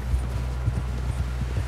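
Steady horse hooves clip-clop at a walking pace on a snowy trail in Red Dead Redemption 2, close and continuous over low wind, with the rhythmic clopping repeating evenly through the stretch.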